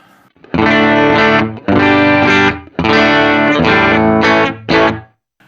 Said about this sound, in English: upload an external IR from the Lancaster Audio Producer Pack by Warren Hewitt Vox AC30